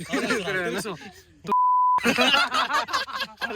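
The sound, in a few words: censor beep over a spoken name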